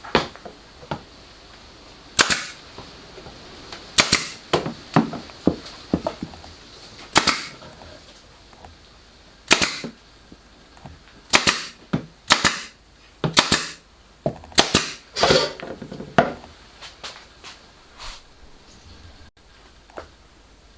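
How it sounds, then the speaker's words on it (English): Sharp, loud nailer shots pinning a glued end panel into a varnished sliding storage unit, firing singly and in quick bursts of two or three at irregular intervals across the stretch, with quiet handling noise between. "An end panel can now be glued and pinned in place."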